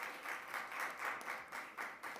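Audience applause at a city council meeting, a steady patter of many hands clapping at moderate distance, fairly quiet and sustained throughout.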